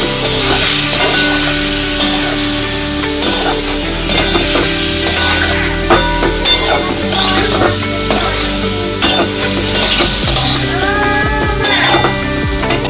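Fried potatoes being sautéed in a pan with a little sugar, Kashmiri chilli and water, a loud continuous sizzle under repeated stirring and clinks of a spatula against the pan, close up and without speech.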